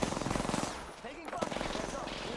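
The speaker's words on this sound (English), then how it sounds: "The enemies are shooting at me." Rapid automatic gunfire from an Apex Legends match rattles in dense bursts, loud and close, with a short lull before the shooting resumes.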